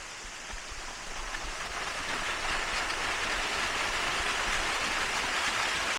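Waterfall near Kawaguchiko, Japan: a steady broadband rush of falling water, loud and continuous, swelling slightly over six seconds with no voices.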